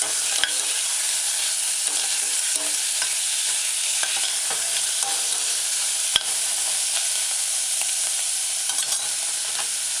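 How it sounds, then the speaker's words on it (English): Sliced mushrooms sauté with onion, scallion and garlic in a pan for a vegan mushroom tomato stew, a continuous close sizzle broken by scattered scrapes and taps of stirring, with no voices. "add your sliced mushroom. Stir in, allowing sauteing for about 10 seconds"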